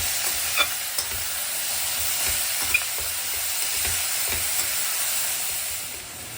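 Spices stirred into a dish frying in a pan for a South Indian vegetarian meal, a steady close sizzle and hiss with scattered light clinks of the spoon, and no voices.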